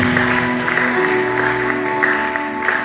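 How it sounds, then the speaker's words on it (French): A church congregation at a worship service in Kinshasa claps for the Lord, a dense, steady wash of applause lasting the whole moment, with sustained instrumental tones running beneath it. "acclamons bien pour notre Seigneur"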